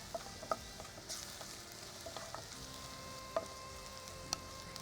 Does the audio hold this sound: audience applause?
no